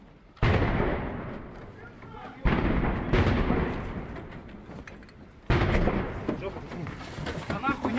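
Explosions in war footage from Ukraine near a Russian unit with trucks: three loud, sharp blasts a few seconds apart, each followed by a long fading rumble, while people talk in the background.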